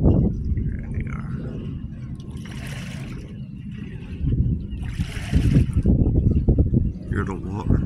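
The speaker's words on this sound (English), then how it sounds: "Hear the water." River water with small waves lapping near the shore while fishing boats are out on the water, a steady wash of splashing heard outdoors under close, ongoing talk and some wind.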